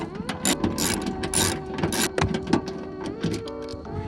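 A ratchet turns a 10 mm socket to remove trunk bolts on a G35 Coupe, giving rapid clicking bursts and mechanical rattles in irregular runs, fairly close and clear.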